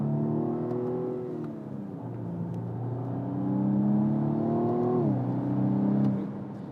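A 2020 BMW M135i xDrive hot hatch accelerates in sport mode, its engine a steady droning hum that climbs in pitch, shifts down, then rises again before easing off.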